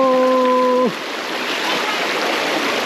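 Shoes sloshing through a shallow rushing stream on a forest trekking trail near Jayanti, with steady broadband water noise after a brief tonal sound at the start, no talk.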